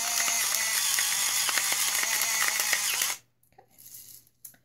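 Nuvita 2-in-1 electric salt and pepper grinder running on a fine grind setting, a steady close mechanical whirring and ratcheting buzz for about three seconds that cuts off abruptly, followed by faint handling noises.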